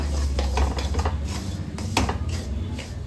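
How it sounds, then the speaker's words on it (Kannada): Jackfruit seed mixture for burfi frying in ghee; a close, dense scraping and clattering of a spatula against a metal pan dominates over a low, steady hum, with only a faint sizzle and no talking. "ತುಪ್ಪದಲ್ಲಿ ಈ ರೀತಿಯಲ್ಲಿ ಫ್ರೈ ಮಾಡ್ಕೋಬೇಕು"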